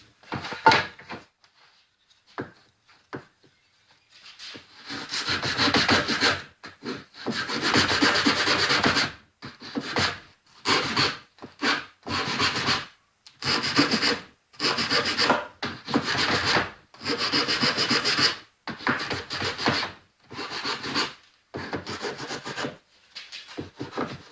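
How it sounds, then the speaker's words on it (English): Repeated rasping strokes of a sanding block on wood, in steady bursts with short pauses, close and fairly loud after a few light scrapes. "So with my little sanding block here,"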